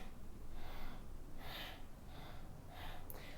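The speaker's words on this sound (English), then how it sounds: "make sure you can hear your breath when you're doing this" Audible yoga breathing, slow alternating inhales and exhales with a breathy, rushing texture, repeating in an even rhythm close to the listener against a faint steady background hiss.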